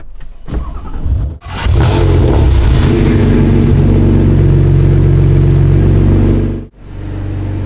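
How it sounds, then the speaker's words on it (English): A BMW M3 engine with a catless exhaust cranks briefly, catches and roars to a loud, rumbling idle on a chilly day, then cuts off abruptly near the end. "Catless exhaust. Catless exhaust."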